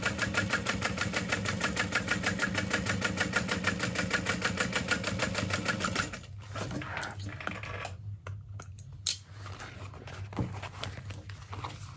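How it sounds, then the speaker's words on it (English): Sewing machine top stitching cork fabric, a fast rhythmic mechanical chatter for about six seconds, then stopping and leaving quieter handling noises and a brief knock. "And I am top stitching on the cork fabric."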